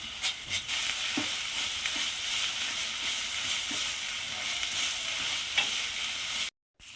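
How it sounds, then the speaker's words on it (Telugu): Onions with ginger paste frying in a pan for an egg gravy curry, a soft steady sizzle under repeated stirring scrapes, close and fairly quiet, no voices, ending in a brief cut to silence. "వీటిని బాగా ఫ్రై చేసుకుందాం"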